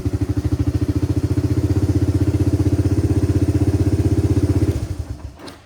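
A Kawasaki KLT 250 three-wheeler engine runs with a steady, rapid close-up chug at idle for several seconds, then shuts off and sputters briefly into quiet.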